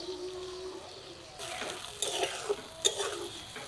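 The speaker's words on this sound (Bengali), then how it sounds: "বাটা মশলা তেলের সাথে নেড়ে চেড়ে ভেজে নিলাম" Spice paste of ginger and green chilli stirred and fried in hot oil in a pan for a fish curry, a soft sizzle with scraping stir strokes and a couple of sharper clinks, fairly quiet and close.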